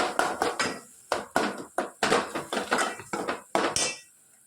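A metal spoon knocks and scrapes around a cooking pot while mixing red chili, asafoetida, garam masala and tomato, giving about a dozen sharp, close clinks in a quick, uneven rhythm before falling quiet.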